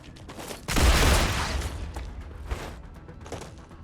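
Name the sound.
gunfire in the video game Star Rupture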